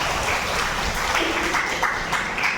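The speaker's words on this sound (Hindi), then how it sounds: "अरे ताली तो बजाओ" An audience at a Brahma Kumaris spiritual talk in Pithora, Chhattisgarh claps steadily, a dense, continuous patter of many hands filling the hall without a break.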